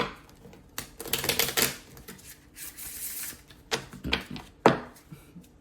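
Tarot cards being shuffled in quick riffling bursts with crisp flicks and taps between them, close by and with no talking.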